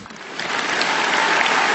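An audience applauds Vladimir Putin, the clapping swelling from a softer start into a dense, steady wash of many hands.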